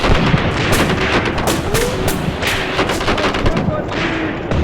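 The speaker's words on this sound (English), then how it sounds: "I see those rifles firing" Rifles firing during a World War II tank battle in Tunisia, 1943, in a video game: dense, loud crackling bursts of gunfire and booms layered continuously, with a faint voice underneath.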